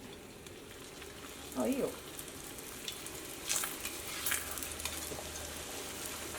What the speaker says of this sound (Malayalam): ഇതാ നമ്മുടെ ഭട്ടൂര ഫ്രൈ ചെയ്യാൻ വേണ്ടിയിട്ട് പോവാണ്